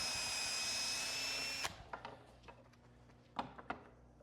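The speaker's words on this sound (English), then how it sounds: "then just drill in the hole in the back" A power drill drives a screw into a hole at the back of a drawer rail, a steady whirring burst that cuts off suddenly, followed by several faint clicks and taps.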